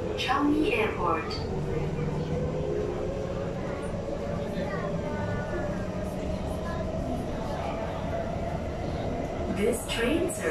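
Steady rumble of an SMRT metro train in motion on Singapore's East-West Line Changi Airport branch, with a rising and falling whine and a recorded announcement voice over the top.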